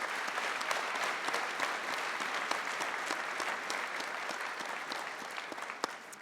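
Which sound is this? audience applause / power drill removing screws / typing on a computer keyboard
audience applause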